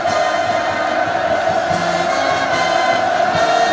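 A huge crowd of military parade participants roaring hurrahs during a commemorative photo session for the 75th anniversary of the party's founding in North Korea, a loud, dense, continuous massed cheer with no break.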